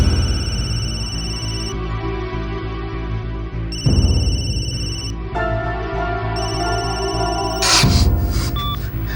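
A telephone rings on and off without being answered, a repeated electronic ringtone pattern that is loud and close, with a short burst of brighter tones near the end and no talking.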